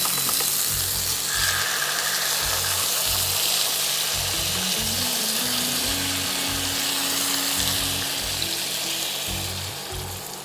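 Pieces of boal fish sizzle and fry steadily in hot oil with black cumin, a dense continuous crackle close by that holds for the whole stretch, with a low hum beneath and no talk.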